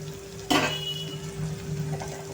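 Spices tipped into a frying pan of chicken liver set off a sudden, brief burst of sizzling, which then settles into a quiet, steady fry.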